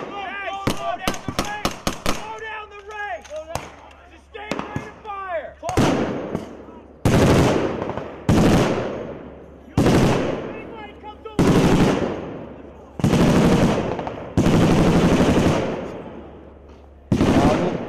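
Rapid bursts of automatic gunfire from Australian troops on a military exercise, loud and close, repeated in long rhythmic volleys over about ten seconds, with shouted voices and quicker shots at the start.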